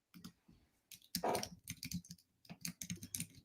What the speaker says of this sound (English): She's typing it in on social.